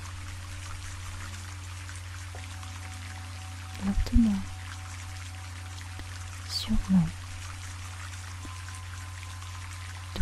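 Continuous rainfall hisses steadily in the background while a soft, calm voice speaks briefly twice over it.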